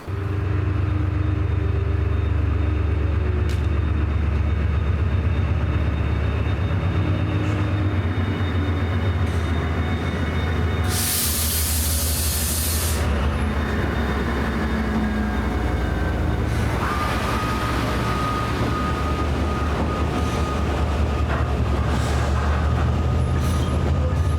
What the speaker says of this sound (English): a lone Class 68 on the flash being 68017 on 6M97, the 1413 Georgmas to Carlisle Kingmoor, departing Perth at 2305